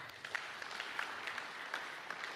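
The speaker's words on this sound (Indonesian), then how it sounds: "Mau tepuk tangan buat Tuhan." A church congregation claps during a sermon, scattered, fairly faint applause with individual hand claps standing out across the room.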